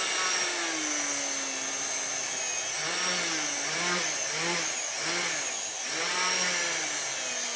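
A 775 DC motor spins as a drill into very hard wood, giving a steady high-pitched whine with a wavering, pulsing load as the bit bites, close and continuous throughout without talk.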